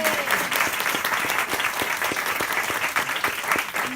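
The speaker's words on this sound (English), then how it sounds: "let's give Joanne a round of applause for coming" Audience applause for author Joanne Fluke at a book talk, dense sustained clapping from a room of people, fairly close and steady throughout with a few faint voices underneath.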